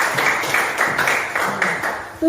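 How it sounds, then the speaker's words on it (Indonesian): Applause for a student in a classroom or teacher-training session, a dense steady patter of many hands that swells and dips in a few waves over a couple of seconds. "Beri tepuk tangan buat dirinya."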